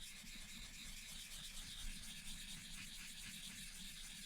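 A knife blade rubs back and forth on a coarse Nogura whetstone in steady, gritty scraping strokes, close up and quiet, without talk.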